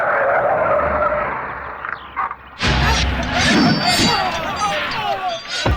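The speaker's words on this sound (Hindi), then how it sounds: "गाड़ी रोक।" A car skids hard to a stop in a loud film action scene, the broad screeching burst arriving after a couple of seconds and carrying on under rumbling noise and scattered voices.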